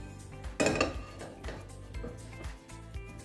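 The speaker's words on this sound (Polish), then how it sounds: "Nie dotykamy cukru łyżką, tylko wstrząsamy garnkiem, aby cukier miał równomierną warstwę." A pot of melting sugar is shaken on a stovetop, giving a few sharp metallic clanks and rattles against the burner followed by softer intermittent knocks, close and fairly quiet.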